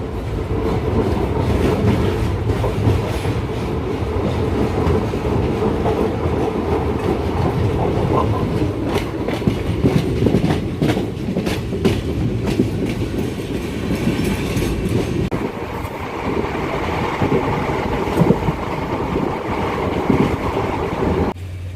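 An Indian Railways passenger special from Guwahati to New Bongaigaon runs steadily along the track, wheels clicking and clattering in a continuous rumble with wind buffeting the microphone, loud and close throughout.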